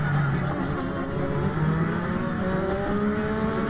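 The engine of a Lotus 98T Formula One car in the Assetto Corsa racing game screams steadily at high revs, its pitch climbing through the gears, loud and close.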